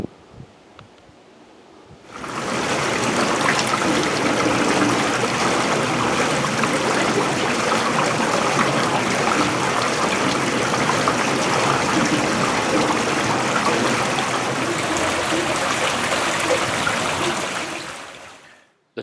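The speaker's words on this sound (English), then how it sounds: "The tailrace water flows back into Strangford loch." Tailrace water from the Castle Ward cornmill rushes steadily back toward Strangford Lough, a dense, constant roar that swells in after a quiet start and holds evenly before fading out.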